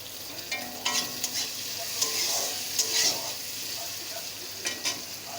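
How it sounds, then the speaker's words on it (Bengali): Chopped onion fries in hot oil in a pan after eggplant has been fried in it, a continuous sizzle broken by repeated scraping strokes of a spoon stirring at close range. "এর মধ্যে দিয়ে দেব যে কুচিয়ে রাখা পেঁয়াজটা আমি একটু লাল লাল করে ভেজে নেব।"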